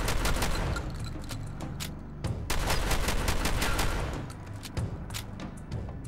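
Rapid automatic gunfire from the M45T weapon in Fallout 4, loud dense bursts of shots with sharp cracks and booming low end, nearly continuous with brief breaks, no talking.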